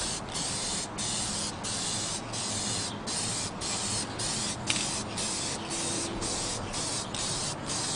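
A spray can coats an RC truck body in short bursts, a close steady hiss broken by brief regular pauses between strokes, with no voices.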